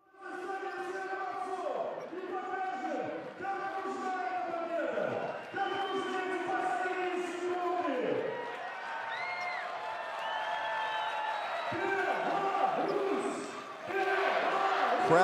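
Crowd noise from a FIBA World Cup European qualifier basketball game between Belarus and Spain, a steady loud roar running throughout, with a commentator talking over it and bursts of cheering and squeaks near the end.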